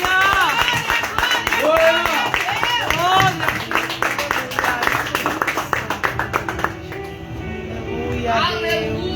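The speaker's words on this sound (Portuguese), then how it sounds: "E as palmas engrandecem o nome do Senhor." A church congregation claps hands together in a rhythmic, fairly fast beat while voices sing and speak over it, the clapping thinning out toward the end.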